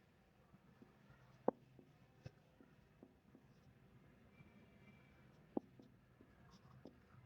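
Chalk or marker writing an example sentence on a board in a classroom, heard as faint scattered taps and short strokes with sharp clicks at intervals, quiet and without speech.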